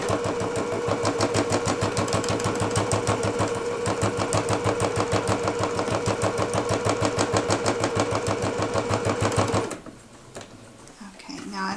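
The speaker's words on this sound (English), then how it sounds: "flatten the fabric on the machine deck, feel around and make sure that you don't have anything else in the way. Start stitching." A sewing machine stitches fabric in a fast, steady mechanical chatter, loud and close, running for about ten seconds before stopping abruptly, leaving only a faint rustle of handling.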